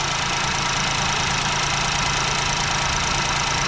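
A Ford EcoSport 1.0 EcoBoost sits idling after a wet belt change, giving a steady, close, even engine hum with no change in revs.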